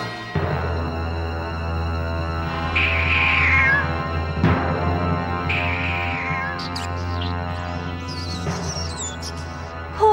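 A strange cat meows in the Voltron: Defender of the Universe cartoon, giving several drawn-out meows spaced across the clip over a steady background hum.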